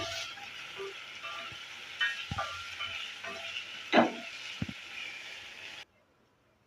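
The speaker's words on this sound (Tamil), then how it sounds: "இப்போ அதையும் சேர்த்துக்கிறேன் அதை நல்லா வதக்கி எடுத்துக்கிறேன்" Chopped onion sautéing in a pan for a chicken pepper roast, a soft steady sizzle with occasional scraping stirs and clinks of a spatula, running for several seconds before cutting to near silence.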